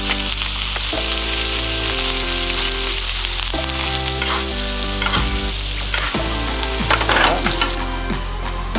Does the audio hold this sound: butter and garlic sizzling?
yes